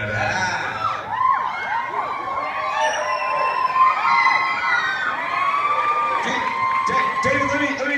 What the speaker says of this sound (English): It's a good crowd. It's an excited crowd today.